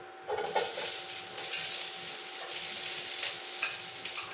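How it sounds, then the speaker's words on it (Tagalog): Onion sautéing in a pan at the start of pinakbet, a Filipino mixed-vegetable dish: a soft, steady sizzle with occasional stirring scrapes, fairly quiet and close. "ang una nating igigisa ay itong sibuyas"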